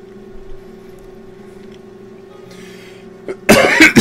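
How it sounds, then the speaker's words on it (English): After a quiet stretch with a faint steady hum, a burst of harsh, loud coughs breaks out near the end, rough and close. "Gonna mute it every now and then when I have a coughing fit."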